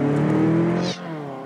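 A Ferrari California pulling hard from a standstill, its engine droning loudly and steadily from inside the car before the pitch shifts sharply as it changes gear.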